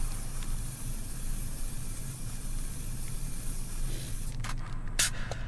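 Propellant sprays steadily into a potato cannon in the VR game H3VR, a continuous close hiss lasting several seconds, then a few brief clicks and taps at the end.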